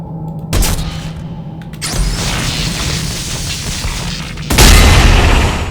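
A javelin gun fires in Dead Space 2 with sudden loud booms, one early and a heavier one near the end, separated by a sustained crackling, rumbling discharge that follows the shot.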